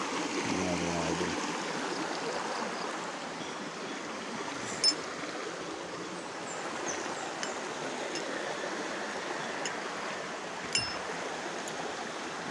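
A stream flows with a soft, continuous wash of water, faint and fairly distant, with a couple of small clicks. Someone talks briefly near the start.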